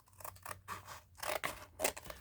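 Scissors snip through paper bag material for a junk journal in several quick, quiet cuts with soft rustling between them.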